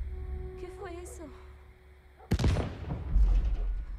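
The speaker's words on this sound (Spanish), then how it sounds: "Ahí están las explosiones." Gunfire and a loud explosive burst in The Last of Us remake on PS5, a sudden heavy blast midway followed by rumbling crackle and low booms, preceded by game voices and sirens-like tones.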